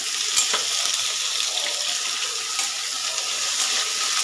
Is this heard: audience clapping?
no